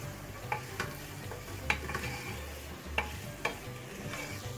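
Sausage and bacon sautéing together in a pan, a quiet low sizzle punctuated by several sharp spoon taps and scrapes against the pan.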